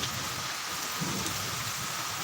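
Heavy downpour at a building under construction, a dense unbroken hiss of rain with a brief low rumble partway through, no voices.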